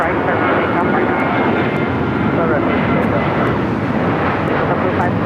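A jet airliner takes off from runway 25 right at Los Angeles International Airport, its engines a loud, constant broadband roar that fills the whole stretch without letting up.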